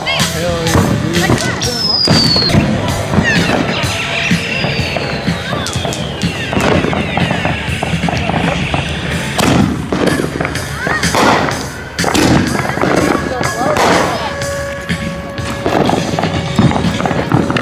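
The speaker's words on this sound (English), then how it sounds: "I'm just gonna do some rockets." July 4th fireworks rockets crackle and burst in a dense, loud barrage with whistling launches rising and falling, continuous blasts throughout, and people talking now and then amid the noise.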